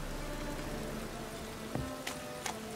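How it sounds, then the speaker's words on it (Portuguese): Steady rain hiss from The Witcher 3 (Hearts of Stone expansion) falling across a city scene, continuous and fairly even, with a few brief louder clicks and drips near the end and no talking. "Adoro chuva."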